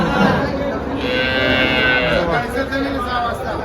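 A cow moos loudly and close by in a single long, sustained call at a busy rural cattle market selling HF, local and Jersey cows, with crowd murmur underneath.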